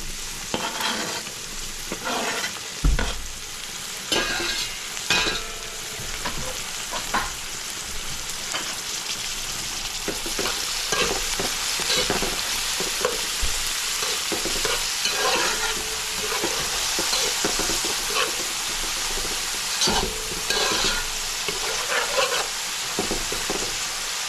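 Scallions, celery and tomato stir-fried in a pan for a fish curry, a steady close sizzle with repeated scraping stirs and clinks of a utensil against the pan throughout, no talking.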